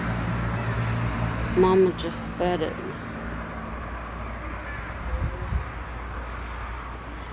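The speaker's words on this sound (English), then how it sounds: "So from now on, when we hear the crows" Crows caw in a short burst of harsh calls near the start, then a few fainter caws later, heard under a person talking over a low outdoor background hum.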